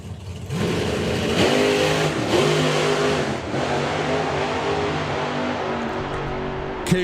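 A drag racing car accelerating down the strip at a power festival, a loud sustained engine roar that rises in pitch with gear changes and eases as the throttle comes on and off.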